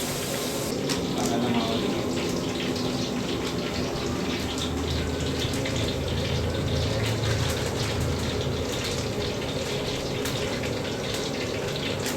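Water gushes steadily from a tap in a home kitchen during laddu making, a continuous close pouring rush throughout with faint voices in the background.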